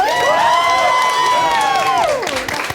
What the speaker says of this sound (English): Can we get like a round of applause for her?